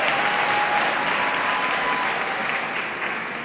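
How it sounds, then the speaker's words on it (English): Warm audience applause at an academic-year opening ceremony, a full, sustained roll of clapping that tapers off slightly toward the end. "Let's give her another warm round of applause."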